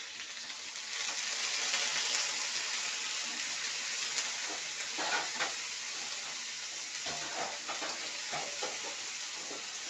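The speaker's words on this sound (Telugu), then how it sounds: "మిరపకాయలు వేగిపోయినాయి" Chili peppers sizzling and frying in oil in a pan for homemade tomato pickle, a steady close hiss with occasional crackles and stirring sounds throughout.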